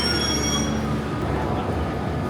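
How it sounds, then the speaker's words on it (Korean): Nanjing Metro Line 1 subway train running, with a steady loud rumble and a high wheel squeal that fades after the first second. "먼저 난징 지하철 1호선을 타고 티안롱시에 간다."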